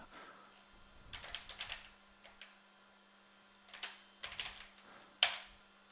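Typing on a computer keyboard at a command prompt: short bursts of quick key clicks separated by pauses, close and fairly quiet, ending with one sharper, louder keystroke.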